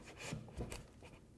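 A wooden puzzle-style coffee table leg piece slides snugly into its slot, giving a short, close, soft scraping rub of wood on wood with two brief louder pushes.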